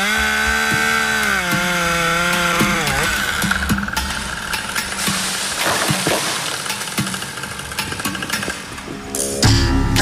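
A Husqvarna 572 XP chainsaw cuts wood outdoors in Australia, its engine running high and steady, then dipping and revving as the chain bites, with a brief burst of revving near the end.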